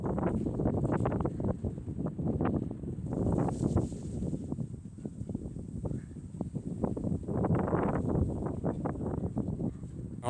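Gusty wind buffets the microphone outdoors on a sloping garden site where nine-foot concrete posts are being set, a rough, uneven roar of bursts and lulls without speech.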